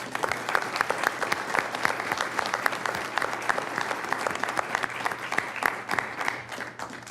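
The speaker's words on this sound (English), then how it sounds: "How about we give Natalie a big round of applause?" Audience at a county commissioners' business meeting giving a big round of applause for Natalie, dense sustained clapping from many people in a room, fairly loud and even throughout, with a low hum beneath.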